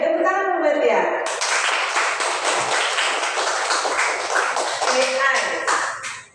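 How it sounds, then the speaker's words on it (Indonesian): A class of students claps for a classmate with dense, rapid applause that swells and then fades. A voice speaks briefly at the start and again near the end. "Tepuk tangan buat dia."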